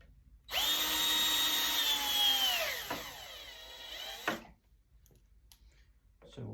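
A power drill drives screws into the back panel of an action figure display case: one close, continuous whirring run of nearly four seconds with a steady pitch that drops as the motor winds down, followed by quiet.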